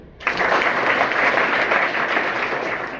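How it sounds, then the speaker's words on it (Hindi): An audience at a school in Mokalpur, Madiyahu, Jaunpur bursts into loud, dense applause that starts abruptly and holds steady for about three seconds without any talking. "एक बार जोरदार ताली।"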